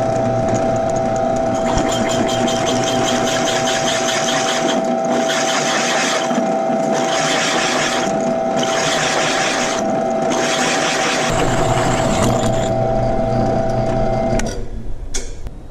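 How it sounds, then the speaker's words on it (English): A lathe turns aluminum mower pulley disks, giving a steady mechanical hum with a constant tone and bursts of rough cutting noise close by, and no talk. "I'm going to clean them up in the lathe."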